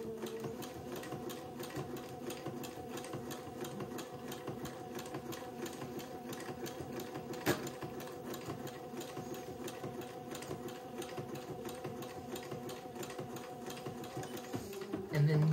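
A sewing machine stitches a tee cap bonnet, running steadily and evenly throughout with a continuous rapid needle rhythm, fairly quiet and close, with one brief sharp click midway.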